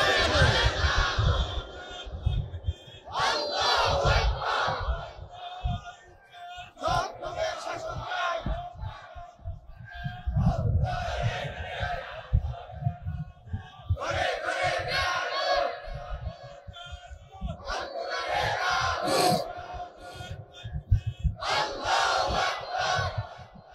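Large crowd at a Bangladeshi Islamic political rally shouting slogans in unison, loud bursts of massed voices answering in repeated waves with short pauses between them.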